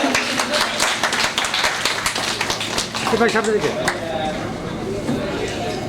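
Dense crowd applause at a school reunion ceremony for Major General Mahmudul Hasan High School, steady clapping for a few seconds that gives way to a speaking voice and hall murmur.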